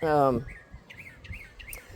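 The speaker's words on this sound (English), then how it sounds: "so here's all the birds, and they're kind of integrating" A flock of young backyard birds gives a series of quick, high chirps and tweets. A brief voice is heard at the start, and soft background noise sits underneath.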